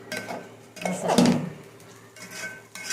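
Rice stir-fried in a pan for masale bhat, with a few close metallic clanks and scrapes of a spoon against the pan amid quieter rustling.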